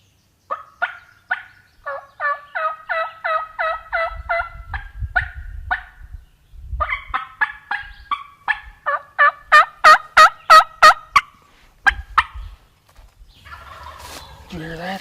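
A wild turkey gobbles repeatedly, loud rattling bursts in quick rhythmic series, with brief low rustles between calls.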